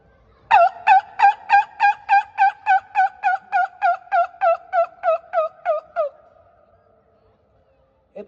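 A performer on stage mimics a cuckoo's call with the voice: a rapid, even run of about seventeen loud, bright, clipped notes that slow slightly and fade out, with no talking over them.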